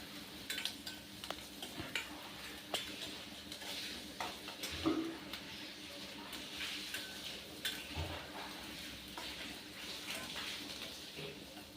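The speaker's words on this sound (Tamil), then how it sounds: "இப்போ நல்லா வெங்காயம் பொரியணும் வெங்காயம் நல்லா பொரிய விட்டுறணும்" Onions fry in a kadai with a continuous low sizzle, punctuated by repeated spatula scrapes and metallic taps against the pan, fairly quiet throughout.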